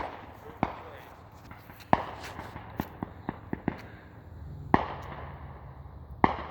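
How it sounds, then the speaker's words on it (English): Distant Memorial Day fireworks finale: a scattered series of sharp thuds and pops, some louder than others, rings out over a low, steady outdoor background with people talking nearby. "that was their little finale for those fireworks"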